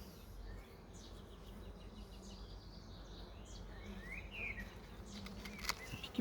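Honeybees from an open hive during swarm work, a dense, steady low buzz filling the air close by, with a few sharper wingbeat passes and light rustles on top.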